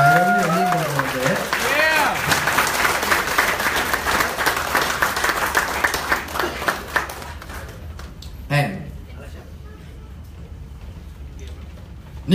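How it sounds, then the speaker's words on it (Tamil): An audience breaks into dense, sustained applause that thins out over several seconds into scattered claps, with a voice speaking over the start and a sharp knock near the end. "ஓகே, இவ்வளவுதாங்களா கைத்தட்டல்?"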